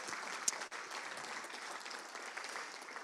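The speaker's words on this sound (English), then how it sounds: "Please give a round of applause to Taylor and G." An audience claps at a community event, with a dense patter of hands that stays fairly even for a few seconds, heard at a distance and moderately faint.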